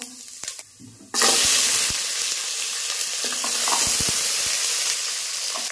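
Fenugreek and cumin seeds tempering in a little hot oil for a home-style fish curry: a few soft clicks, then a sudden loud, steady sizzle with occasional spatter pops, close and continuous.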